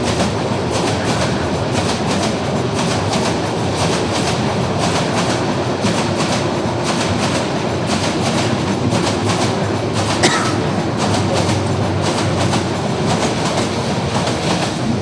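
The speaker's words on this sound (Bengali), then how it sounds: "সারাক্ষণ ট্রেন যায়" A train rolls past on the railway tracks, a steady loud rumble with rhythmic clickety-clack of wheels over rail joints, sustained throughout without pause.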